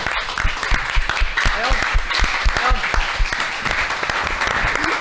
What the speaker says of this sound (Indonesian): Tepuk tangan buat Bum Bum, Gen Z pertama dari Tambun.